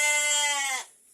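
A single sheep bleats once, close and loud, with a bright wavering tone that holds for most of a second, then cuts off abruptly, leaving near silence.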